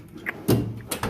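Door of a 1996 Ford F150 pickup truck thunks open or shut at close range, a single solid knock followed by a short low resonance and a lighter tap, with no talk.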